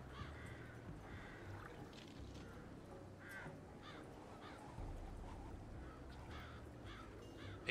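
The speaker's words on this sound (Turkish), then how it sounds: "Bak kargalar da burada." Crows caw in the video game Mafia 2, several faint repeated caws spread over steady low ambient rumble.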